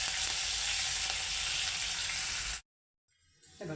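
Curry leaves hit hot oil in a tempering already seasoned with asafoetida and red chilli, giving a loud, steady crackling sizzle that stops abruptly after a few seconds, followed by near silence and a faint return of sound.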